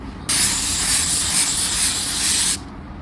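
A steady burst of spray-gun hiss applying a wet coat of car paint, broadband and loud, runs continuously for a couple of seconds, then cuts off abruptly.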